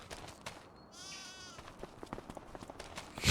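Sheep in the video game Farming Simulator 25 give a short, moderately close bleat in a quiet pasture, surrounded by faint ticking game ambience.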